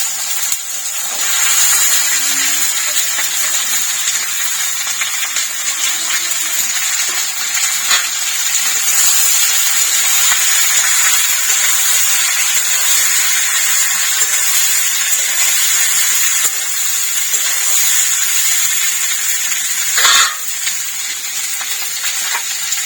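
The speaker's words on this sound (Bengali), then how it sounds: "এবার আমি আলুটা দিয়ে দেবো।" Potatoes frying in a pan for aloo posto make a loud, continuous close hiss that holds steady throughout, broken only by a single brief clatter near the end, with no talk.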